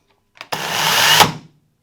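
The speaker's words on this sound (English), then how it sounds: "I pull back and start the chainsaw." A Hyundai HY2190 20V cordless chainsaw runs for about a second: a brief click, then a loud, steady electric whir that starts abruptly and cuts off cleanly, heard alone.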